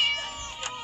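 A cat lets out one brief, tonal meow that fades quickly against a faint background.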